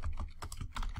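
Someone types code on a computer keyboard, with a quick, steady run of close, soft key clicks and no voices.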